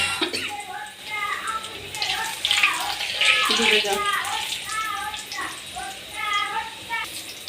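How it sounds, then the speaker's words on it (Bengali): Paratha flatbread frying in hot oil while chicken fry is prepared for an evening snack, a steady watery sizzle running throughout beneath a person talking. "ওই তেলের ভিতরেই পরোটা অলরেডি দিয়ে দেওয়া হয়েছে পরোটা ফলতেছে"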